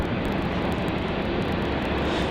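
A Qantas Airbus A330-200 takes off from Melbourne Airport, a steady broad jet engine roar heard from a distance, filling the air without a break.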